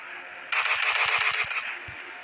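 Video game gunfire sounds as one loud burst of rapid automatic shots, about eight quick cracks in a row, then a single later shot, with no talk over it.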